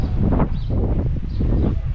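Wind buffeting a microphone at a marina viewpoint in Antalya's Old Town, a steady broadband rumble with gusty swells lasting throughout, close and fairly loud, with faint rustling underneath.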